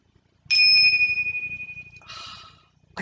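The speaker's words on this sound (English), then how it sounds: "I know they have a proper name, Tibetan bells maybe, but for me they just go ding." A small Tibetan hand bell is struck once, giving a bright, clear ding with a long wavering ring that fades out, then a shorter brushing shimmer and a faint clink at the end, heard alone in a quiet room.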